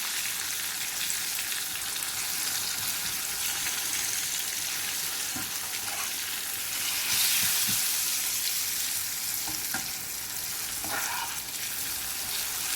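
Kashmiri red chili sizzles in hot oil for a tempering of mixed shahi masala daal, a dense, steady frying hiss close by with a few faint stirring clicks.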